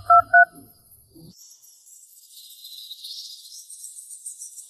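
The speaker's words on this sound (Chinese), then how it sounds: "给那 boss 打电话。" A phone is dialed with two quick, clear keypad tones at the start, followed by a faint, high, steady crickets-like hiss that runs on quietly to the end.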